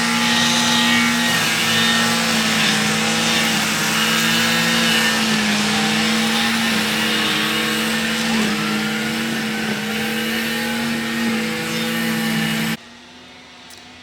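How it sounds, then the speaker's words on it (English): Grass strimmers and mowers work in a cemetery in Blackpool, Lancashire: a loud, continuous engine drone with whining, wavering pitch runs nearby, then drops away abruptly near the end. "There are 5 or 6 gentlemen in the graveyard here, strimming and mowing."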